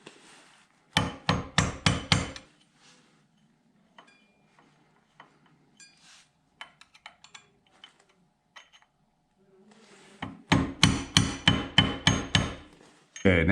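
Clutch bolt on a Yamaha FJ-09 motorcycle being staked with a hammer: two bursts of about six quick, ringing metallic strikes each, loud and close, separated by quiet handling noises.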